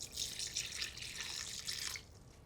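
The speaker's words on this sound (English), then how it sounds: "So I put warm water into my bowl." Warm water pours into a mixing bowl to soften a rye ferment, a soft, steady splashing trickle close by that runs for about two seconds and then stops.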